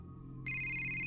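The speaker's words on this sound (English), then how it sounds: "But then her phone rang." A phone ringtone starts abruptly and rings on steadily with a bright, sustained electronic tone over a quiet room hum.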